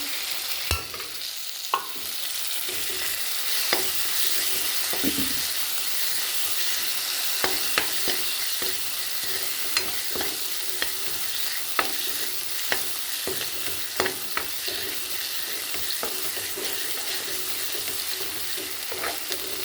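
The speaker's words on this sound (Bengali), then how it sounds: "এবার একসাথে সব ভালো করে সব মশলা একসাথে মিশিয়ে কষে নেবো" A ground paste of cumin, coriander and dried red chilli is stir-fried in a pan in a village kitchen for a cauliflower, taro, potato and egg curry. A steady close sizzle runs throughout, broken by repeated sharp spatula scrapes and taps.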